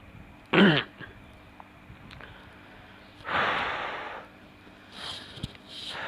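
A few short coughs and throat-clearing sounds come in separate bursts amid quiet, close by and moderately loud.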